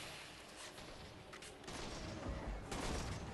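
A Grakata automatic rifle fires in the video game Warframe, with dense rapid gunfire and thudding impacts that swell louder partway through amid noisy combat.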